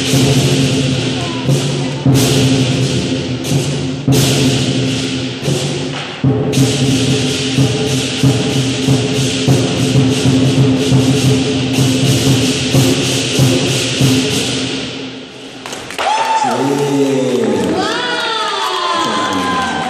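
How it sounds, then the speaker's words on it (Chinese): A loud audience cheers and claps at a lion dance performance, with children shouting over dense, continuous crowd noise that dips briefly before swelling again, followed by a few whistle-like rising tones. "掌声鼓励一下。"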